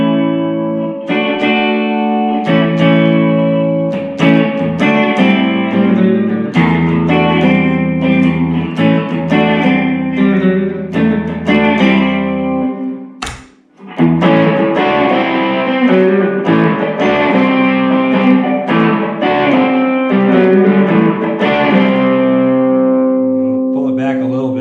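Electric guitar played through a Jonah Ghost Drive overdrive pedal set to drive only with reverb, strummed chords and picked notes ringing out loud and close, a brief pause midway before playing resumes.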